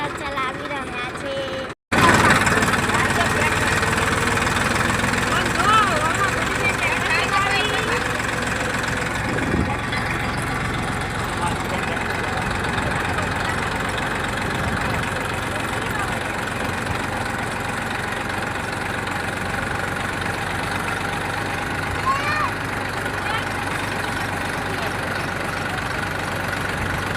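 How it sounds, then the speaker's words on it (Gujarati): A tractor engine runs steadily and loudly while being driven, a continuous low rumble with knocking character that starts abruptly after a brief silence and holds for the rest of the stretch. "ટ્રેક્ટર ચલાવી રહ્યા છે"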